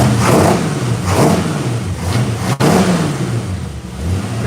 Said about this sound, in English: Rev it up, Ron.